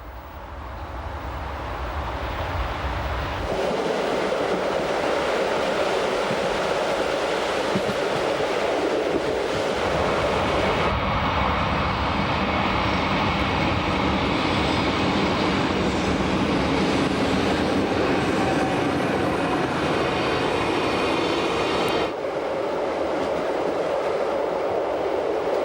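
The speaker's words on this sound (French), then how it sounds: "Notre train traverse de nouveau le viaduc à poutres de fer de 152 mètres de long qui enjambe le Rhin postérieur" The Glacier Express train rolling on rails near Chur and crossing a 152-metre iron girder viaduct over the Hinterrhein, a loud continuous rumble and rushing clatter of wheels that holds steady for the whole stretch.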